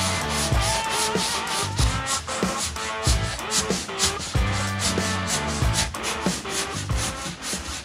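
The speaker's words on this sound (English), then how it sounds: "I'm gonna sand. I gotta sand." Continuous rough rubbing of sandpaper on an aircraft engine cowling, rhythmic back-and-forth strokes close by, steady and fairly loud, with no talking.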